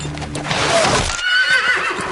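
A horse neighs loudly and close during an ambush scene in a French film, the whinny rising over hoof clatter and rumbling commotion.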